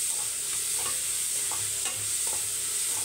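Chopped onion sautéing in a pan for a meal maker gravy, a continuous bright sizzle with soft scraping stirs at intervals, close and with no talk.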